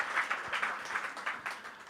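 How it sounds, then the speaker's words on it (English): Brief audience clapping during a rehearsal cue at a talk event, a loose scatter of hand claps at moderate volume with uneven, pulsing bursts. "That means you have to clap."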